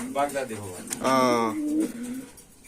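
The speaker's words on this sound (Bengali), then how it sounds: "এগুলা হচ্ছে কি কবুতর" Homer pigeons at a pigeon farm give soft, low, throaty coos in a couple of close, drawn-out phrases.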